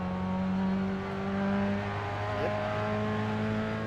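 A race car engine droning steadily from inside the cockpit, holding a loud continuous tone with a brief pitch drop as it downshifts, then pulling on under power.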